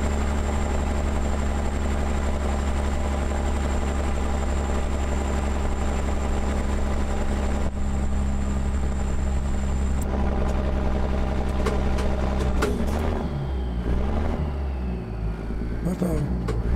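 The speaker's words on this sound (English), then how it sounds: "Like driving this less powerful engine though." A less powerful truck engine drones steadily and loudly in American Truck Simulator on a drive from Steamboat Springs to Cheyenne, holding a constant low hum before shifting near the end.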